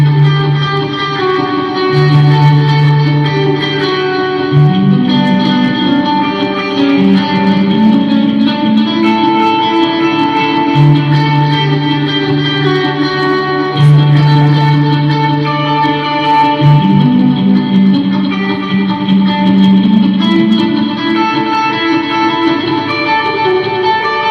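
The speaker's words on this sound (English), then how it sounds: "So, loads of delay, loads of reverb, loads of effects." Electric guitar through a Marshall amp at a live event in Jakarta, played with heavy delay and reverb, sustained echoing note patterns repeating and washing into each other, loud and alone without speech.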